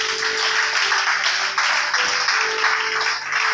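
A church congregation applauds Jesus Christ with sustained, dense clapping from many hands, loud and continuous for the whole stretch, with a faint voice mixed in underneath.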